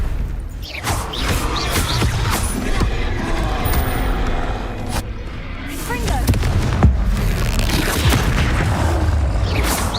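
In Hogwarts Legacy on PC, the Incendio fire spell bursts out in booming, crackling blasts amid constant game combat noise, with a voice talking over it.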